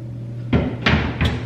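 A kitchen cabinet door above the microwave thumps three times in quick succession, with sharp, close knocks as it opens and shuts. No voices are heard.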